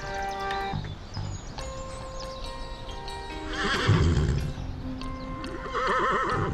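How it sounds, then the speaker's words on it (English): Giara miniature horses on Sardinia give several whinnies and neighs over a steady clip-clop of hooves, close and fairly loud in an open outdoor setting. "The Giara, or miniature horses, live alongside Sardinian donkeys, grey donkeys, and even albino donkeys"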